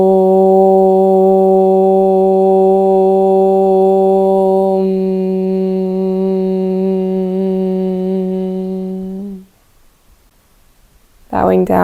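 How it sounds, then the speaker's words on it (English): A single long Om is chanted at the close of a morning pranayama breathing class. It is a loud, steady, resonant voiced tone held for about nine seconds, then fades into quiet before a brief sound at the very end. "Finishing the class with one Om."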